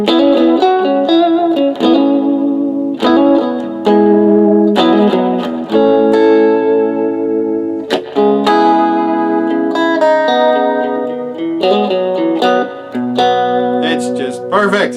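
Electric guitar, a self-assembled Yamaha with a Lace Sensor Emerald pickup set in the second switch position, plays clean bluesy chords and single-note licks with reverb and chorus, strummed phrases ringing out between short pauses.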